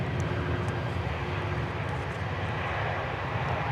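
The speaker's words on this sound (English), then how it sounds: "It's the Airbus A380, British Airways Speedbird going back to London." British Airways Airbus A380 airliner at Dallas Fort Worth, heading back to London, gives a constant broad jet roar with a faint steady whine, unbroken and fairly loud throughout, no voices.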